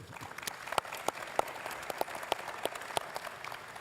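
Applause from a convention audience in a large hall, with a steady wash of clapping broken by a few sharper individual claps, moderately distant and without talk.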